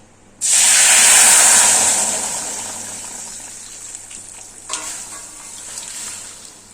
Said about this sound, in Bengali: এই পর্যায়ে আমি তরকারি ঢেলে দিচ্ছি।